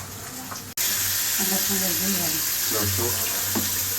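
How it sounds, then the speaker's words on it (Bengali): Pangas fish frying in a pan with a steady, loud sizzle across the whole clip. It starts after a brief gap, and there is faint background chatter. "পাঙাশ মাছ ভাজা শুরু হয়ে গেছে"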